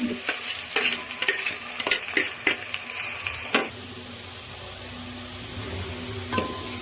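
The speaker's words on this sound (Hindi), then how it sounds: "ये फ्राई भी हो रही है मिर्चें इसमें।" Steady oil sizzle from green chilies frying in a pan, broken by sharp scraping clicks of a spoon stirring, close and fairly quiet.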